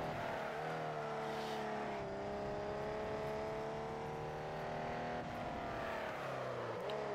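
Several old banger race cars roar in the Wreckfest racing game, engines droning steadily at high revs with shifting pitch as they pull away from lumbering buses, continuous and loud with no talk.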